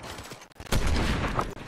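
Video game gunfire in a shooter match, a short burst of loud, dense shots that swells suddenly and holds for about a second before easing off, with no talking over it.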